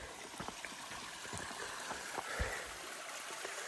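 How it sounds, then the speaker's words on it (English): Natural spring water trickling out of a mountainside at a water source along the Appalachian Trail, a steady soft babbling stream close by, faint and continuous with small splashes, no talking. "Just natural water coming out of the mountain from the top."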